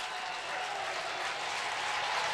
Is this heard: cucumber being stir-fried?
no